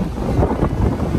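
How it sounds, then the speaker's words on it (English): Strong wind buffets the microphone outdoors, a continuous loud low rumble with gusty swells and no speech. "it is ridiculously windy"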